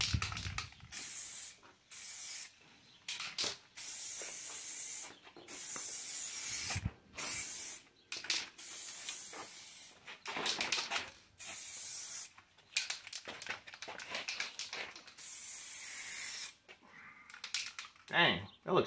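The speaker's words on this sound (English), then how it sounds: "Oh, a nice wide spray." Short bursts of spray paint being applied to a Dodge Neon car bumper in a wide fan, close by, repeated many times with brief silent gaps between passes.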